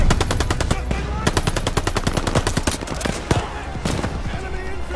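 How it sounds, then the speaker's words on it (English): Rapid machine gun bursts blast close and loud in Call of Duty Vanguard wartime combat, dense strings of shots with short breaks, over a heavy battle rumble. "Surround the MG!"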